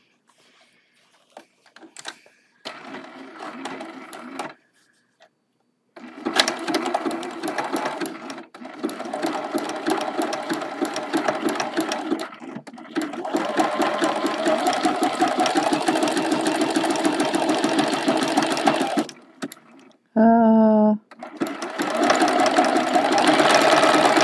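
A sewing machine runs a zigzag stitch on a quilted watering-can mug rug, its steady mechanical chatter going in long stretches with a few stops, close by, with brief talking at the start.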